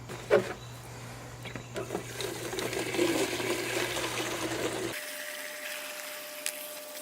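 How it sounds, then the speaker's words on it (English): Rainwater pours into a plastic milk jug for a DIY mud rocket stove build, a continuous gurgling splash that runs for several seconds before cutting to a quieter background. "let's fill it with some rainwater, and then it's going to be a lot more substantial"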